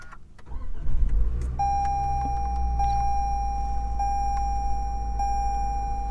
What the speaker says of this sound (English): all we need to do is put our foot on the brake and push the button, hold the clutch in.